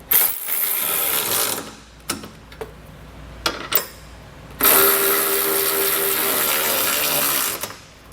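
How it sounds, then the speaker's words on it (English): Socket wrench snugging down trailer hitch receiver hardware on a 2021 Nissan Rogue: bursts of fast mechanical whirring and clicking, separated by several short knocks and taps, loud and close, with no speech. "we'll come back with the socket and snug it all down"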